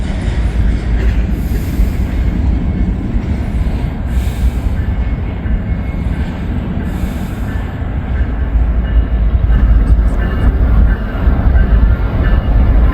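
Amtrak train arriving at Cincinnati Union Terminal: a loud, continuous low rumble of railcars rolling past close by, with faint wheel squeal and clatter throughout, no talking.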